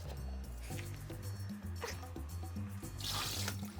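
Kitchen sink tap running with water splashing and trickling during prime rib preparation, faint and close, with light clatter and dripping over a quiet, steady flow.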